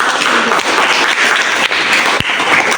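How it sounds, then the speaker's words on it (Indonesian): Classroom applause for a student group that has just presented, a dense, continuous clapping from many hands, loud and close, with an occasional thump. "Yuk sama-sama kita beri aplaus kepada kelompok yang"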